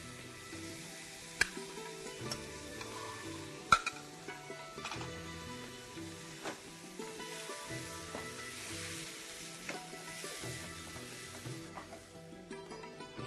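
Rice stirred into masala frying in a pan for peas pulao, a faint steady sizzle with scraping stir strokes and occasional sharp clicks of a spoon against the pot, no voices.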